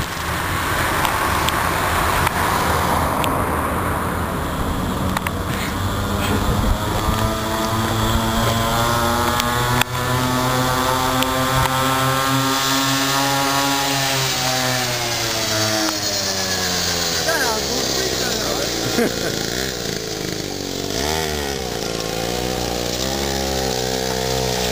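Small pocket bike engine revving and accelerating hard, a loud, buzzing two-stroke whine that climbs and falls in pitch over and over, close to the microphone with no talking.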